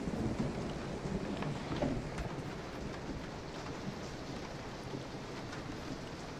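Steady rain and rumbling thunder in the Resident Evil 7 video game, a dense continuous downpour with low rolling thunder swelling early on, no voices.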